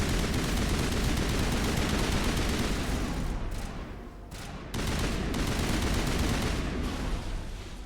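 Assault rifle fire in Mass Effect Legendary Edition: sustained rapid automatic shooting, fairly quiet and dense, with a brief pause in the middle before the fire resumes.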